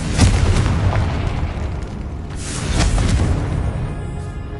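Confringo blasting spell in the video game Hogwarts Legacy: a loud, sustained explosive rumble with a roaring burst, followed by a second swell of blast noise that fills the whole stretch.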